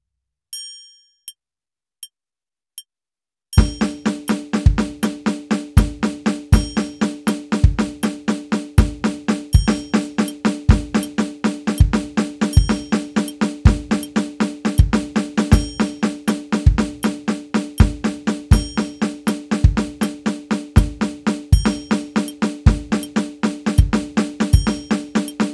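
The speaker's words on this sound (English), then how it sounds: "we have an 8th note on the kick against 8th triplets on the snare" Drum kit playing a fill with an 8th-note kick against 8th-note triplets on the snare, preceded by a few sparse metronome-like clicks, then a steady, dense, close rhythmic pattern of metallic-sounding hits and thuds with no talking.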